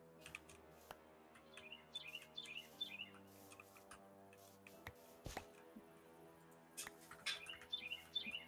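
Small birds chirp and tweet in quick bursts outside, moderately loud, with keyboard-like clicking and taps mixed in alongside them.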